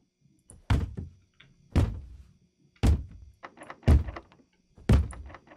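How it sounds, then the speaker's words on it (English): A door slams shut repeatedly in a horror video game, five heavy, close thuds arriving about one second apart against near silence. "there are other ways than just slamming the door"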